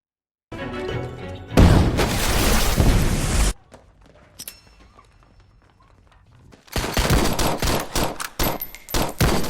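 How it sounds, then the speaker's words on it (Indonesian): Rapid gunfire in a shootout scene from the Eastern Bandits film, set in a fight between bandits and colonial occupiers, with loud bursts of shots and booms at the start and end and a quieter lull in between. "Adegan lalu kembali ke Fang yang kini juga ketahuan dan dar-der-dor pun terjadi"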